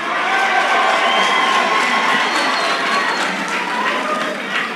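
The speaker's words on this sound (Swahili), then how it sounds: "Tumpigie makofi tena." A church congregation applauding and cheering for the Kiambu County governor, a broad, loud, sustained crowd roar with clapping and raised voices blending together, holding steady for several seconds.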